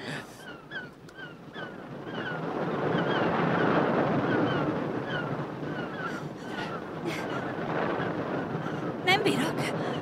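Rough sea surf crashes against rocks along a coast in Hitchcock's 1939 film Jamaica Inn, as a rescue boat approaches. The loud, steady roar of waves and wind runs throughout, with shouting voices over it.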